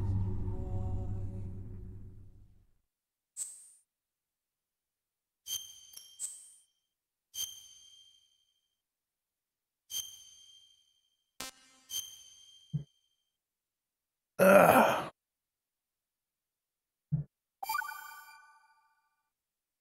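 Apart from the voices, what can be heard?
phone notification dings going off repeatedly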